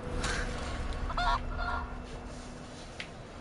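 A video-game chicken lets out a couple of short, nasal, honking squawks over quiet background ambience.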